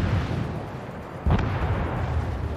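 A torpedo explosion in the naval game World of Warships, one deep boom rising out of a loud, continuous rumble of ocean and battle ambience.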